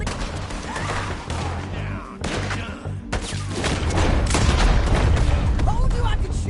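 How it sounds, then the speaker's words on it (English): Loud video-game gunshots and heavy booms in rapid bursts, dense and continuous, with the roar of shooting filling the scene and louder firing toward the end. "Told you I could shoot a gun"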